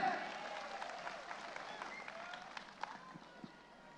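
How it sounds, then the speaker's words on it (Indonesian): Faint, scattered clapping at a NasDem party national working meeting, mixed with voices and a background hum in a large hall, with a few sharper claps standing out. "tepuk tangan kakak-kakak sekalian"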